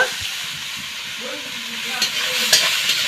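Grated potato frying in a pan with chopped green chilli, stirred now and then: a steady soft sizzle and hiss with a few louder scraping stirs toward the end.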